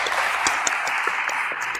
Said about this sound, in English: One last big round of applause to everyone.